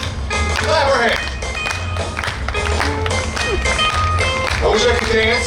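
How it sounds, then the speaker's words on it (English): An audience claps along to a live sung song at a state police exhibit, with the sharp rhythmic hand claps running through the music and voices. "Come on, clap our hands."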